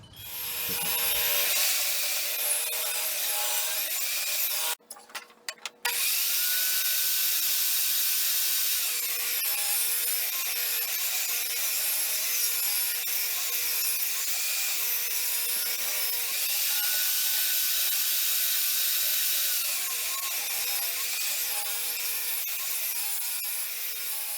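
A table saw rips wooden boards from an old dresser along a tall waxed fence, a loud sustained whining cut that runs for over twenty seconds with a brief dip near the start.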